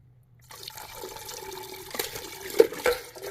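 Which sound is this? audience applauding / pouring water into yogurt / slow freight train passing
pouring water into yogurt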